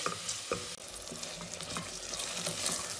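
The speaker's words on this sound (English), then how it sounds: "Once the onions and tomatoes are nicely fried, add in the masala like I have done." Onions, tomatoes and ground masala fry in a pan for a Mangalorean crab curry, giving a loud continuous hiss with soft stirring scrapes and no speech.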